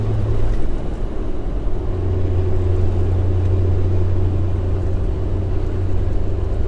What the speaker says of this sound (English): Right now she's pretty smooth. The engine runs really well.